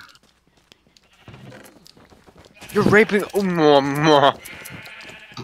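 Sheep bleating in the game Minecraft during shearing, one drawn-out wavering bleat in the middle, with casual player talk and laughter around it.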